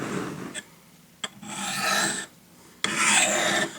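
A knife is drawn along a Spyderco Triangle Sharpmaker stone in close, raspy scraping strokes, three separate passes with short pauses between them.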